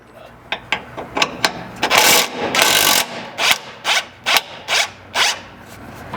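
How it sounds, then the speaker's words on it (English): On a third-generation Toyota Sequoia, a ratchet with a 14mm socket loosens the fuel tank strap bolt: loud, close clicking bursts that settle into a steady rhythm of about eight strokes, with no talking. "loosening the fuel tank strap bolt that we have up behind here with a 14mm socket"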